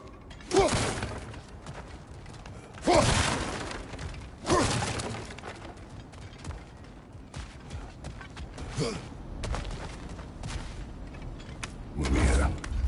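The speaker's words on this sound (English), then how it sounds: "back to smashing through things for fun and profit" Breakable objects smashing in God of War Ragnarök: several loud shattering crashes at irregular intervals, each with splintering debris, over a low ambient game background with faint creaks.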